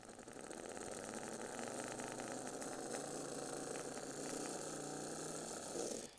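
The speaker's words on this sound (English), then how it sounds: "We got a working motor." Small electric motor of an Athearn switcher model locomotive, rusty and just repaired, whirring steadily at a faint, close level with a soft buzzing hum and no voices.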